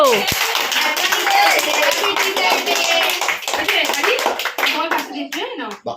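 Children clap at a birthday cake-cutting gathering, a dense, ongoing patter of hands among lively voices and chatter, close and fairly loud, thinning out near the end.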